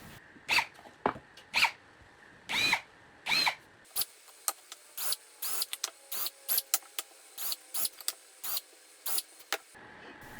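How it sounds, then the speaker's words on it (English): Drill with a deburring bit cleaning the edges of drilled holes, a series of short, separate whirring bursts, some longer at first and then quicker, close and fairly loud. "a quick pass with a deburring bit to just get any little nasties off the edges of the holes"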